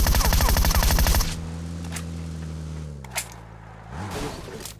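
Rapid automatic gunfire from PUBG Mobile rattles loudly for about a second, then cuts off, leaving a low hum and a few faint clicks and taps.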